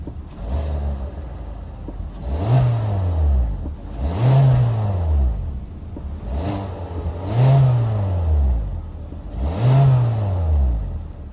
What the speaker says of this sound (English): that was the sound of the 2-liter 4-cylinder sold by Kia for the 2023 Seltos